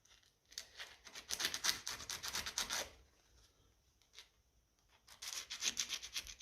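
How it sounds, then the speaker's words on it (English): Spark plugs from a 1955 Ferguson TED TVO tractor being rubbed with sandpaper: two quick bursts of rapid, gritty back-and-forth scratching strokes, close and fairly soft, separated by a short pause, with no talking. "So I'm going to quick clean off. Quick rub of sandpaper."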